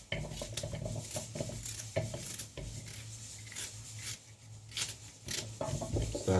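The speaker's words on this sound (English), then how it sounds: "Starting by cut up my carrot like this" A knife chops carrot for a Jamaican vegetable pot, with irregular close taps and knocks on a board and faint clatter from kitchen dishes.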